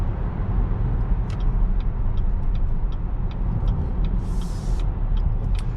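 A 2019 Chevrolet Blazer RS accelerates to pass another car on the road. Heard from inside the cabin, a steady low engine and road rumble is joined by faint ticking clicks and a brief hiss.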